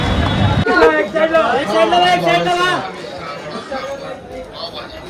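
Dense crowd chatter at the Ekvira Aai palkhi procession, many voices overlapping loudly up close, then thinning to a quieter murmur of talk.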